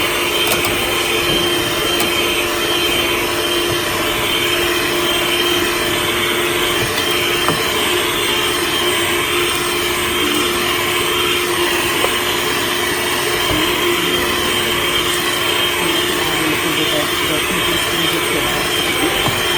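An electric hand mixer whirs steadily while beating chocolate brownie batter in a home kitchen, a loud, constant motor drone with a high whine, unbroken for the whole stretch.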